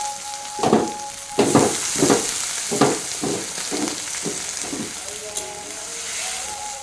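Onions fry in a pan for chilli chicken, with a steady sizzle and a run of rhythmic stirring scrapes, loud and close.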